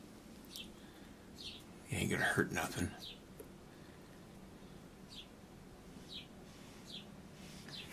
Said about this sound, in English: Birds are singing, it's 80 degrees outside.